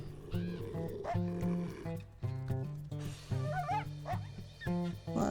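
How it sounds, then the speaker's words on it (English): Dogs and coyotes around a carcass in the video game WolfQuest: a close chorus of overlapping barks, yips and whining howls in repeated bursts, with short gaps between calls and no talk. "we've got dogs as well as coyotes everywhere"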